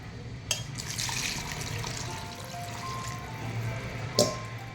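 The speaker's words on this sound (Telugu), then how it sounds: "ఇప్పుడు దీంట్లో ఒక 4 గ్లాసుల నీళ్లు పోసుకోవాలి" Water poured into a chole mixture, a continuous close splashing trickle with small clinks at the start and end.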